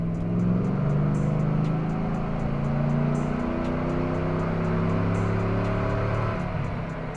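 A Summit Racing 450HP 5.3 long-block V8 runs a partial throttle pull on an engine dyno, its loud exhaust drone rising steadily in pitch with sharp ticking underneath and no talking.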